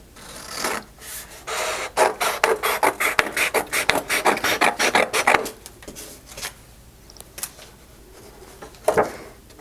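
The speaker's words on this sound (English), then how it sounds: "take a second file folder and cut it down the middle" Scissors cut down the middle of a paper file folder in a quick run of close, rasping snips, followed by a few sparser crisp cuts and rustles, nearby and without talk.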